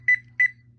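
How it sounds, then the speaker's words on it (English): A ThermoWorks Smoke X2 thermometer alarm sounds two short, clear, high-pitched electronic beeps in quick succession over a faint low hum. "so I'm going to turn my alarm on"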